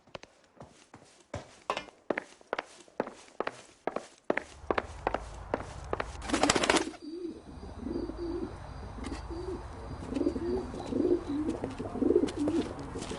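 Carrier pigeon in the video game L.A. Noire, heard as soft cooing and wing flutters alongside a run of sharp footstep-like taps, then a steadier busy murmur of bird sounds continuing over room noise.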